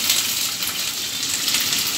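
Small onions sizzle steadily in hot oil for a fish kuzhambu, a dense, even frying hiss with faint crackles and no pauses throughout.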